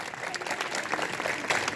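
Students clap together at a morning school assembly, a dense, steady patter of many hands filling the space at moderate loudness, with a few sharper bursts toward the end.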